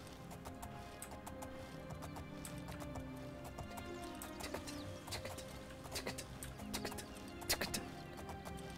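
Horse hooves clip-clop in a steady, quick rhythm at moderate distance in the video game The Elder Scrolls IV: Oblivion, sharp clicks repeating over a soft background murmur.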